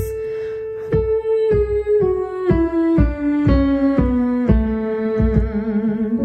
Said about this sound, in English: Octave humming scales.